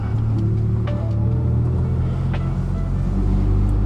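A 9th generation Honda Civic Si with a manual gearbox on the move, its steady low engine drone and road rumble filling the cabin without any talk.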